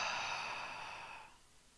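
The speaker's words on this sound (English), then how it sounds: "And exhale." A slow, steady exhale through the nose during gentle beginner yoga breathing, a soft breathy rush lasting over a second and fading out, close and quiet.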